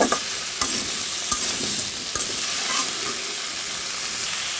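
Cauliflower frying in a pan with salt and turmeric over low heat, a loud continuous sizzle broken by several sharp spatula knocks and scrapes against the pan, close up with no talking.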